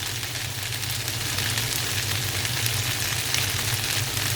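Rice dish made from ration rice, with lemon juice added, stirred in a hot pan, producing a loud, steady frying hiss that runs evenly throughout without clear breaks.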